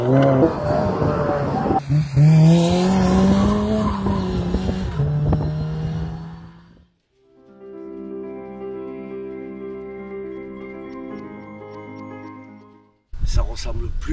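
Fun Cup race car, a 2019 endurance touring racer, on a circuit; the first half is dominated by someone talking, then a steady, tonal engine note runs alone for several seconds before cutting off.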